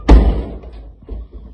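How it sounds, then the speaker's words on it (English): A door is shut with a single loud, close slam right at the start, followed by a brief low rumble and then near quiet. "Close the door."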